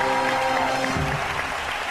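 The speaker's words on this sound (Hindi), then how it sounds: "चलिए तालियां जी" A studio audience at an Eid TV show breaks into brief applause, a dense wash of clapping that fades slightly over two seconds.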